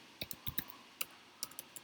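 Rapid, uneven clicks from a computer keyboard as code is typed, close and clear, with about eight sharp keystrokes in quick bursts over a quiet background.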